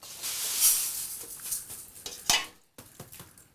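A ladle stirring sambar in a pot, bursts of wet scraping and clinks against metal close by, broken by a short pause before a few more knocks.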